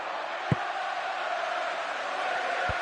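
A football stadium crowd in a PES match gives a steady, distant roar of cheering and murmuring, with a couple of sharp thuds breaking through.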